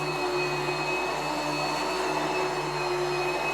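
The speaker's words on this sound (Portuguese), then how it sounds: "Deixa eu fazer mais um teste aqui agora com um aspirador de pó." A vacuum cleaner runs loud and steady with a constant motor whine and rushing airflow, droning through the whole stretch without a break.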